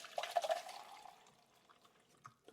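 A yellowing houseplant that has shed its roots is set into a container of water, giving a soft splash and a brief trickle that fades quickly and stays faint and close.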